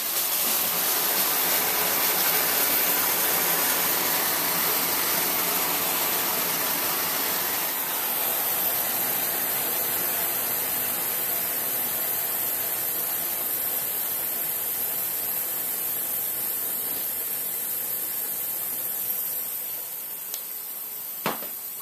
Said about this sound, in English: Blowing it out with some nitrogen.